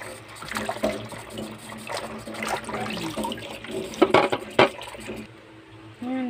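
Tap water runs and splashes while leafy vegetable stalks, gritty with sand, are rinsed and rubbed in a sink, with soft clattering and uneven gushes up close and no talking.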